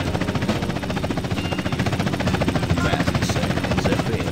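A helicopter in GTA San Andreas on Xbox One gives a steady, rhythmic rotor chop that stays constant and fairly loud throughout.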